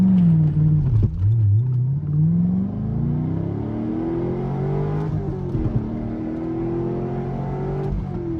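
A C5 Corvette launches hard with traction control on, its engine note climbing in a steady rising sweep through the gears, with brief dips at the shifts, loud and close throughout.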